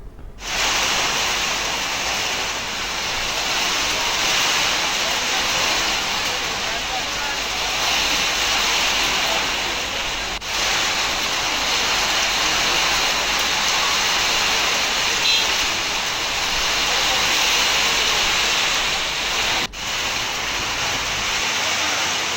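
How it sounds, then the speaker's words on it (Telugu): Steady evening rain falling over a city, a dense, even wash of broadband hiss that continues unbroken for the whole stretch with no voices or other distinct sounds. "సాయంత్రం వాతావరణం మారిపోయి వాన కురిసింది"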